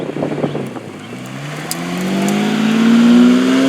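A Lamborghini Diablo engine accelerating from near, loud and rising steadily in pitch after an initial rough burble, building to a strong sustained whine by the end.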